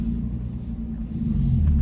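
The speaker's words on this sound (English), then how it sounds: "I'm gonna give you guys some exhaust clips." A Lexus IS300's exhaust rumbles steadily at idle, a deep, loud low-end drone that holds constant throughout with no other sounds.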